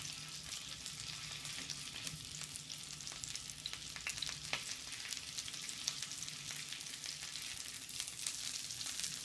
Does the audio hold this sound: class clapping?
no